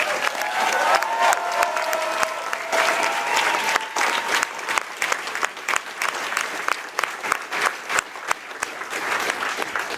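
Audience applause at a French gathering about victims of police violence, dense steady clapping that fills the whole stretch with a few louder sharp claps, a brief murmur of voices under it early on.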